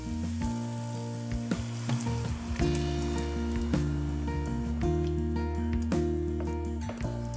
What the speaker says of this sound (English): And now for the tomatoes, around 1 kilo of chopped tomatoes.